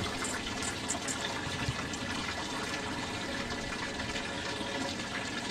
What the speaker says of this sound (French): je montre de plus près le rideau d'eau